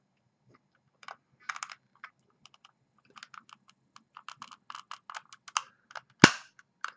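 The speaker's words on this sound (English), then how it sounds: "I moved it to the center of the mouse till I hear a click" Faint scattered plastic clicks and taps from prying open a Microsoft Bluetooth 3600 mouse, capped by one sharper, louder click near the end.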